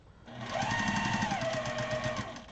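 A sewing machine chain-sews patchwork fabric pieces with 1/4-inch seams, a quick, close, rhythmic mechanical whir that starts up, runs steadily for about two seconds and then eases off.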